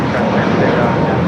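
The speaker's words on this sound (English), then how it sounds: "Alright, so Finnair heading into the gates" Finnair airliner taxiing toward the gates at LAX airport, a loud, steady roar of idling jet engines heard close and continuous for a brief moment.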